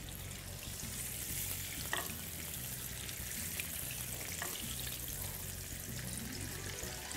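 Oil and butter sizzling steadily in a frying pan for meatball sauce, a dense, continuous crackling hiss at moderate level with occasional small pops and stirring clinks.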